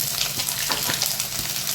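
Curry leaves and chopped ginger sizzle in hot oil, a steady, bright crackling hiss that continues evenly without pause.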